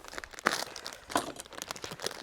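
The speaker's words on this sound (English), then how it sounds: "And we're going to pop our rice in there." Dry basmati rice poured into a pot of hot water for jeera rice, giving a grainy crinkling rush with sharper bursts near the start, middle and end, close up and without talk.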